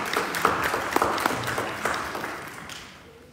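A church congregation claps during Sunday worship announcements, a sustained round of applause from many hands that stays steady before tapering off toward the end.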